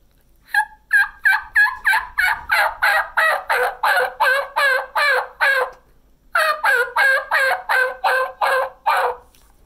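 A person imitates a jake turkey's yelps on a mouth call, making a loud, close run of rapid, evenly spaced raspy yelps, a brief pause, then a second steady run.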